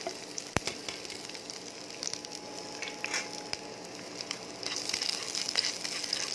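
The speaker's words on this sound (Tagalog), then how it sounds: "let's add now the onions to the oil" Diced onions fry in hot oil with a steady, moderate sizzle and crackle, punctuated by a few sharp clicks and growing slightly busier toward the end.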